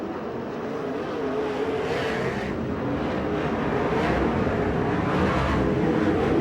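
Sprint cars racing around a 1/3 mile oval at Bakersfield, a steady, loud, continuous engine roar that swells slightly as the cars circle, with no talk over it.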